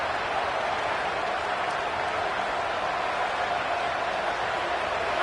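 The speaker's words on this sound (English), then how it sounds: "this home crowd getting involved right from the start" A steady, dense roar of a home crowd in the College Football 27 video game, continuous broadband cheering with no breaks, loud and even throughout.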